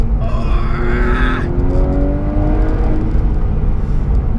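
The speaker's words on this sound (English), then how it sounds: "Rev match again, down to second." Modified Porsche 996 Carrera 4S giving a sharp throttle blip on a rev-matched downshift to second, then settling into a rising engine drone heard from inside the car over steady road rumble.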